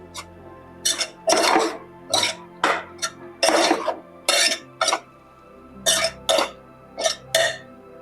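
Spices are stirred into dal in a pot, making a series of sharp, close scraping and clinking strokes of a spoon against metal, spaced irregularly over several seconds.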